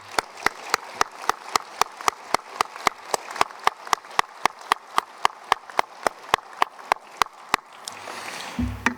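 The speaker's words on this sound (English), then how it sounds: "let's have a round of applause for all of the supporters" Graduation audience applauds the supporters who helped the graduates: crisp, evenly spaced claps, close and loud, keep a steady beat for several seconds, then fade into a noisy rustle at the end.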